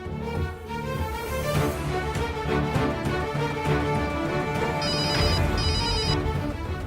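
A phone ringtone rings loudly and steadily, its repeating electronic tones sitting over busy background music for several seconds, with no talking.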